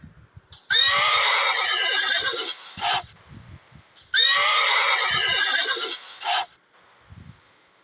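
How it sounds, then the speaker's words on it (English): A horse neighs twice, each a loud, close, shrill whinny of about two seconds that ends in a short snorting tail, separated by a brief quiet pause. "Horse."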